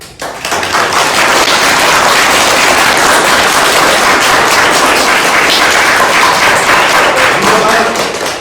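Loud, sustained clapping from a packed audience at a college improv show, tested on a clap meter, a dense roar of hands building quickly and holding near full level for several seconds before easing slightly.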